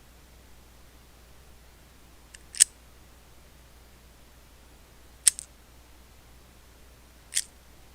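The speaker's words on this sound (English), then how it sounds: "let's pop some rounds out of here and see what that sounds like" Rounds popped out of a Makarov pistol magazine by hand: three sharp, brief metallic clicks spaced a few seconds apart over a quiet, hissy background, close and alone.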